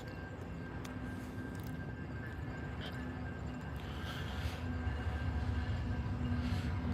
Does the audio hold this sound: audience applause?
no